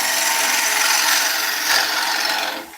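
A woodturning gouge cutting a bowl on a lathe, a loud, continuous rasping shear as the tool rides on the spinning wood, steady throughout and then tapering off at the end, with no talk.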